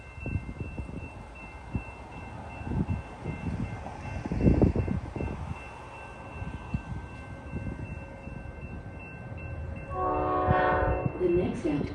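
A Chicago commuter train rumbles steadily toward a station platform during rush hour, and a loud horn blast sounds near the end over the rolling noise.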